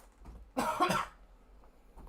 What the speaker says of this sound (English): The concept is making me cough.